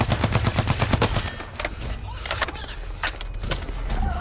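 A turret fires in Blacklight Retribution during an online match, rapid rhythmic bursts of automatic gunfire that start dense and then break into scattered shots, with game noise underneath.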